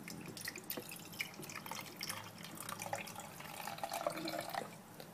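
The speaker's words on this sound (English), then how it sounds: "I am going to pour in the water into the steam water reservoir" Water is poured into the steam reservoir of a Freshfoods Cook n Blend food maker, a steady close trickle and splash lasting several seconds with no talk.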